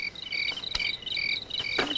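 Crickets chirp in rapid repeated trills, a clear steady pulsing that sounds fairly close and fills the quiet with no voices over it.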